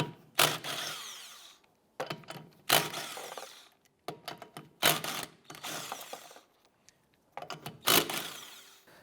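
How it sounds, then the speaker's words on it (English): Four loud bursts of a power tool spinning off the lug nuts on a 2001-2005 Honda Civic rear wheel with a 19mm socket, each lasting about a second and spaced roughly two seconds apart with quiet gaps between. "We're going to go ahead and remove the lug nuts."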